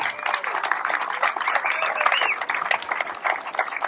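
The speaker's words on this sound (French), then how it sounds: "Un tonnerre d'applaudissements pour les Locminois." Crowd applause and cheering for a local cycling team at a village cycling trophy race in Morbihan, Brittany, a dense steady clatter of clapping with voices mixed in, fairly close and sustained throughout.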